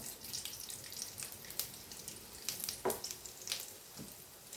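Whole garam masala and cumin seeds crackle and sizzle in hot oil with bay leaf, cinnamon and cardamom, making soft, quiet frying with scattered pops and ticks.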